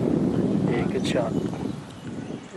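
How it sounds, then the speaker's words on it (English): Strong wind buffets the microphone on a golf course, a steady rushing roar that eases slightly toward the end. "It's very windy out here now"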